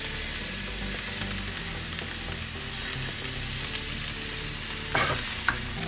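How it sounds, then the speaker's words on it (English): Ginger and garlic fry in a pan while being stirred, giving a steady close sizzle with scraping and clinking of the utensil, plus a couple of louder stirring bursts near the end. "We'll put the ginger and the ginger and the garlic."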